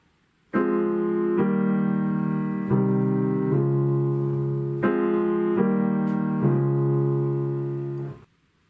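Sustained piano chords change every second or so in a steady progression, the pre-chorus of a song, loud and close with no voices.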